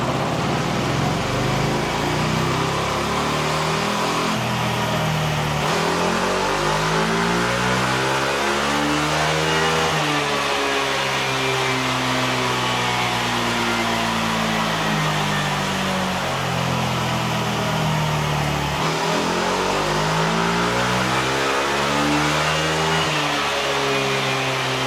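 A Kymco G7 scooter running on a sodium-ion battery revs hard on a dynamometer, a loud continuous drone whose pitch sweeps up and down across the run, with no talk over it.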